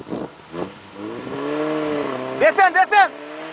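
Off-road vehicle engine revving under throttle while stuck, a rising sustained whine followed by several short sharp bursts of revs, close and loud, with shouting voices at the start.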